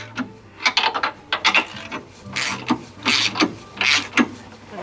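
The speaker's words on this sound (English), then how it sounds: "And I'm just gonna get this as tight as I can with my hand and this ratchet." A hand ratchet tightens bolts securing a differential onto leaf springs of a car's rear axle, giving close, irregular bursts of clicking and metallic rasping with short pauses between strokes.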